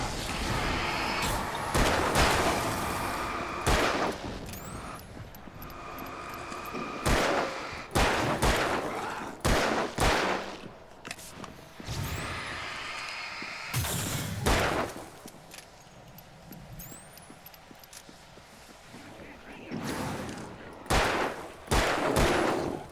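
Repeated loud gunshots and rapid bursts of fire ring out in the Alan Wake video game, with sharp cracks spread across the whole stretch and brief quieter gaps between volleys.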